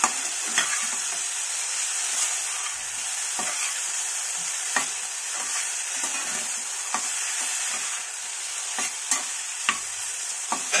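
Drumsticks frying in a pan for Bengali-style vegetarian drumstick charchari are stirred with repeated sharp spatula scrapes and taps over a bright, constant sizzle, close up, with no talking.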